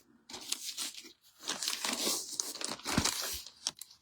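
A resealable plastic bag holding die-cut stamping pieces crinkles and rustles up close, with irregular bursts of crackling and soft crunches as it is handled, no talk.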